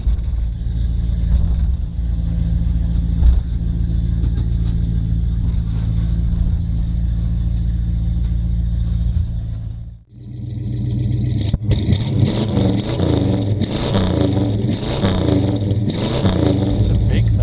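1970 Dodge Coronet V8 idling with a deep, loud rumble while being backed off a trailer, steady for ten seconds, briefly dipping, then resuming with rougher revving and clatter as a voice talks over it.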